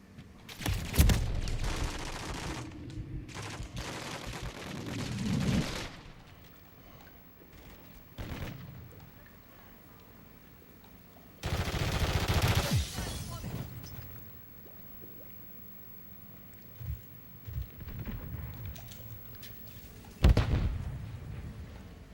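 Mortar strikes and gunfire in Call of Duty Modern Warfare III, with several heavy booming impacts and bursts of shots spaced across a quieter background, some close and loud, others more distant.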